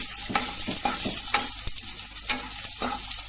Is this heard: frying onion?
yes